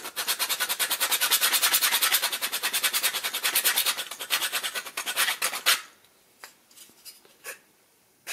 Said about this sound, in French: Donc pourquoi une lime? Parce que c'est plat.